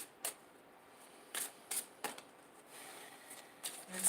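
Romance angel oracle cards are shuffled in short, crisp riffling bursts separated by quiet pauses, close and fairly soft.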